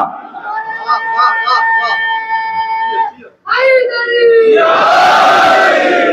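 A large gathering at a Muharram majlis at Dargah Panja Sharif raises loud, sustained collective voices in unison, the chant swelling twice with a brief drop between the phrases before a roaring, noisy surge at the end.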